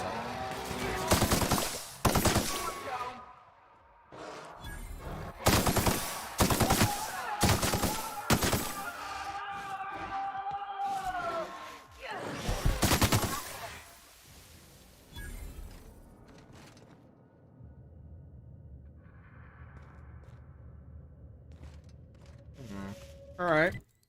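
Bursts of automatic gunfire while weapons are tested in The Outer Worlds, several loud rapid volleys separated by short pauses, then quieter ambient sounds and a final shot.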